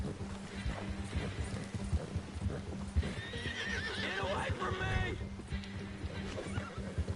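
A horse whinnies loudly in the middle of a Red Dead Redemption 2 game scene, while hooves clop and someone shouts throughout.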